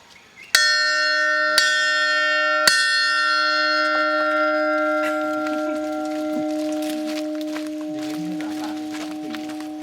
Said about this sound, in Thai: วัดอยู่บนยอดเขานี่มันก็ต้องกระดิ่ง